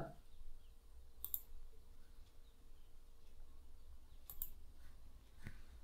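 A few sharp, quiet mouse clicks sound at irregular intervals, a pair close together, against a faint, still background.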